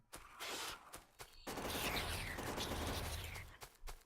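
Sustained rapid gunfire from turrets and weapons in the factory-building game Factorio, a dense crackling barrage that stutters in bursts at first and then runs continuously for several seconds, fairly loud with no talk over it.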